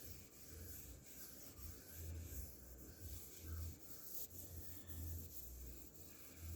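Motorcycle paint on a 1978 Kawasaki KZ650 is wet sanded by hand in a soft, steady back-and-forth rubbing rhythm, faint and close, with no talking.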